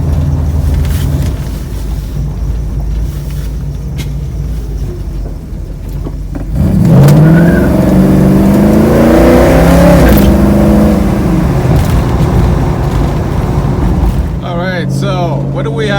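A 1972 Dodge Challenger with a 340 four-barrel V8 idles low, then rises into a loud, throaty drive with rising revs, steady and close. Voices talk beneath the rumble.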